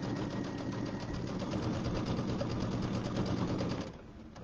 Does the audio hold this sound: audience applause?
no